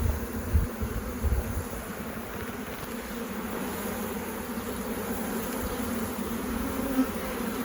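Honeybees buzz steadily in an open hive with a failing queen, a dense, continuous hum close by with no talk over it.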